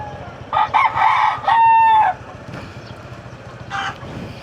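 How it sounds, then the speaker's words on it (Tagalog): Near a Philippine roadside, a rooster lets out a loud, close crow with a long held final note, while other chickens cluck and call more quietly around it. A shorter call comes later. "Daming manok dito."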